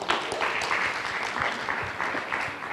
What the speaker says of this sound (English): How about a round of applause for Chris?